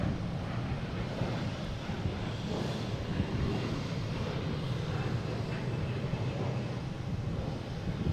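Delta Embraer E175 regional jet, flight 5706, at Boston Logan airport, a continuous distant engine rumble mixed with wind buffeting the microphone, steady and fairly faint.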